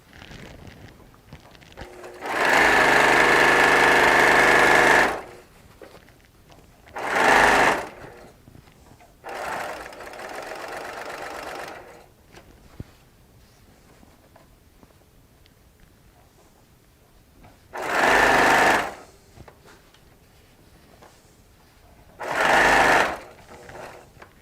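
A sewing machine stitches a quilt made from Tula Pink charms and strips. It runs in several loud, close bursts of steady whirring, some long and some short, with quieter gaps between them.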